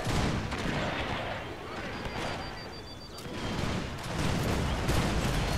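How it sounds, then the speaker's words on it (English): A Gatling gun fires in an Anglo-Zulu War battle scene, rapid bursts of crackling shots mixed with booming gunfire and heavy battle noise, with a voice speaking over part of it. "part of their arsenal was a Gatling gun, as we can see right here"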